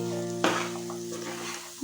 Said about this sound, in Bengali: এবার এটাকেও একটু ভালো করে কষিয়ে নিতে হবে